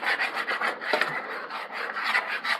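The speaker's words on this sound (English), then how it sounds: "Make sure you scrape the bottom of that pan real good." A utensil scrapes steadily back and forth across the bottom of a pan while beef and ale pub gravy is deglazed, a loud, close, continuous rasping rub in rhythmic strokes with no talk.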